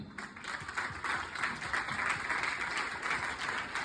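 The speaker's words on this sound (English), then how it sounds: "please give him a round of applause for the 46 champion first" A faint but continuous round of audience applause at an English academy awards evening honouring champions, steady mid-density clapping throughout with no talking over it.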